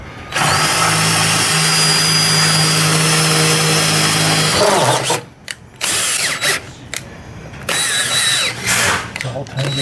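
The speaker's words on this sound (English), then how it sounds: "sometimes you might have to drill it out." A power drill runs close and loud as it drills out a screw during an electric stop-arm actuator install, whining steadily for several seconds, then cutting in and out in short, choppy bursts with brief pauses.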